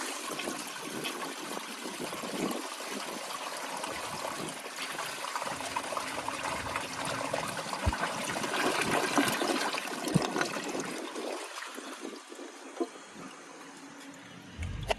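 A 1983 Kohler Wellworth toilet flushes a washcloth, a steady rushing swirl of water that swells midway, then drains and trickles off near the end, close by and without talk.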